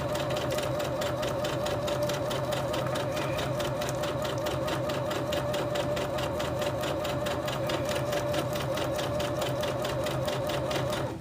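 A sewing machine stitches a seam through finicky plastic sheeting, its needle running in a fast, steady, even chatter that holds loud and close for the whole stretch without a pause.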